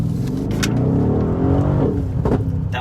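A Mercedes GLE63 S accelerates hard, its loud engine note rising and dropping through quick downshifts with crackling pops, heard close and alone with no talking.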